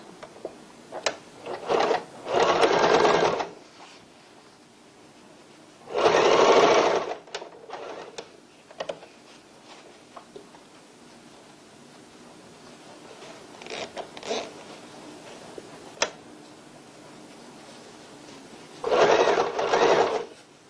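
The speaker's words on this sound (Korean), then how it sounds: "속지는 겉을 밑으로 향하게 한 후에 이렇게 박음질 하셔야 됩니다" Sewing machine stitching the lining of a cloth tote bag, with three loud bursts of running stitches near 2.5, 6.5 and 19.5 seconds. Quieter handling and fabric rustle fill the gaps between them.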